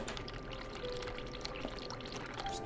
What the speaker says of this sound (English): Just leave the water running.